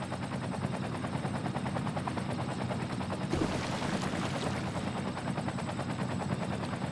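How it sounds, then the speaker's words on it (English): A fire helicopter in the city-building game Cities Skylines, a continuous rapid rotor chop that thumps steadily throughout at a moderate level, with a brief louder burst in the middle. "not sure where this fire helicopter has come from."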